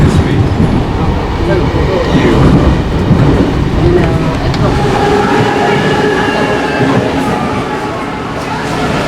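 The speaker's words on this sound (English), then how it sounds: "Okay, now the train." A train pulls into a station platform with a loud, dense rumble and rattling wheels, steady throughout and fading slightly at the end, with faint voices mixed in.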